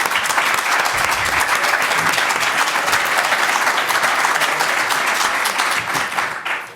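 An audience applauds to welcome speakers at a public talk on Europe, a dense, steady wash of many hands clapping that holds loud throughout before tapering slightly at the end.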